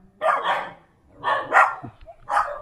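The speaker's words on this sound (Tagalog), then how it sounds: "Imbis na tao yung sumagot, yung aso yung sumasagot." A dog barks at Christmas carolers outside a house, three separate bursts of barking with short gaps between them, close and clear, with no voices.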